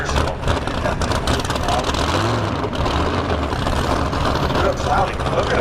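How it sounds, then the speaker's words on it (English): A Firebird drag race car's engine rumbles and revs at a drag strip, a loud, rough, low roar mixed with crowd and track noise, with voices talking over it. "Kevin Foy and the Firebird coming out of the water box, putting a nice little cloud of smoke up behind the car."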